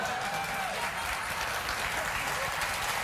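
A studio audience at a late-night talk show breaks into sustained applause, a dense, even clatter of many hands filling the room without letup.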